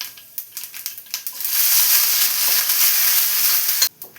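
Mustard seeds, fenugreek, curry leaves and dried chillies hit hot oil for a sambar tempering: scattered popping crackles at first, then a dense, steady sizzle that cuts off abruptly near the end.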